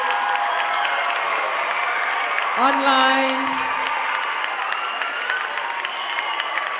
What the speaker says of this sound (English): I want to hear the loudest round of applause as we declare that our learning